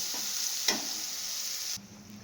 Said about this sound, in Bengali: এখানে চিংড়ি মাছ ভাজি ভেজে নিচ্ছি